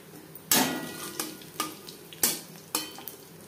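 Half a spoon of panch phoron fries in hot oil left from frying paneer, several sharp spoon scrapes and stirs in the pan over a low sizzle.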